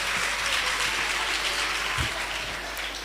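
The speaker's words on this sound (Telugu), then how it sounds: "ఇక ఫోర్త్ ప్లేస్లో బ్లూ టీం. వాళ్ళని కూడా చప్పట్లు కొట్టి అభినందించుదామా?" An audience claps for the fourth-place blue team at a children's home festival, a continuous even patter of applause with a soft thump partway through.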